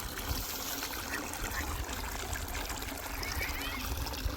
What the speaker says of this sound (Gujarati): પાણી ભરવાનું કામ ચાલુ કરી દીધું ભાઈ